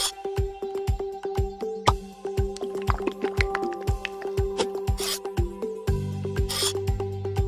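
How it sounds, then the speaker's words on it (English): Rhythmic rasping rub strokes, repeated about a dozen times at a steady pace, as iodine is rubbed onto a patient in the ER Surgery Simulator game, with tonal game music chiming underneath. "Rub the iodine now."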